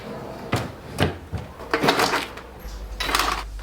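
Items get moved from a basket into a drawer, with a series of close wooden knocks, thumps and rustling handling sounds, ending in a drawer sliding.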